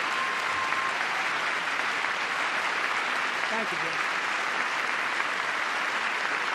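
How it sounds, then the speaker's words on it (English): Sustained, uniform applause fills a State of the Union chamber, a dense roar of clapping that stays level throughout, with a brief voice speaking over it partway through. "Yay! Applause."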